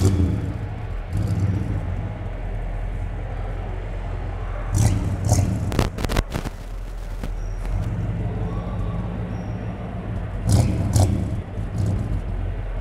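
An old Dodge car engine runs with a steady low rumble throughout, rising briefly in a couple of revs, heard up close with some clatter and background noise.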